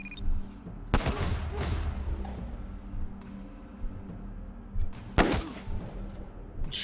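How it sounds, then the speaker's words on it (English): Gunfire from the video game Wasteland 3: a few sharp, loud shots spaced apart, with quieter clanks and impacts between them over a low game backdrop. "Let's headshot him."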